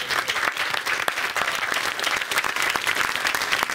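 A studio audience applauds a game-show team, a dense, steady wash of many hands clapping close by with no talk over it.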